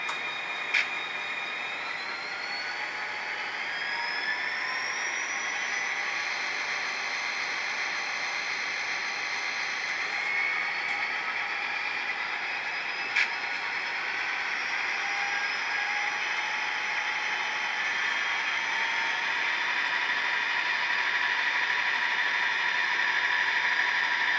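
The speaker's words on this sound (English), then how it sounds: "You'll hear the motor revving, but it's not going nowhere." The small electric motor of an HO scale CSX SD40-2 model locomotive hums and whines steadily, its pitch slowly rising as it revs up, with a faint mechanical hiss throughout.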